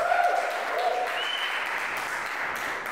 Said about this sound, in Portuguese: Forte aplauso para o Joca.